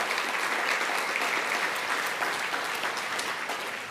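Sustained applause fills a college convocation hall, a dense, even wash of many clapping hands that stays steady before tapering slightly near the end.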